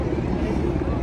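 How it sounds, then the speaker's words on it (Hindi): Helicopter flying over a Republic Day parade airshow, a dense low rotor and engine rumble with wind noise, steady and fairly loud throughout a short moment. "ये देखो भाई हेलीकॉप्टर"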